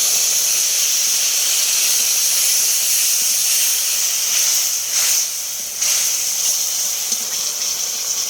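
Steady, loud hissing sizzle of spices frying in a hot pan with fried pointed gourd, continuous throughout with brief bursts of stronger spitting near the middle.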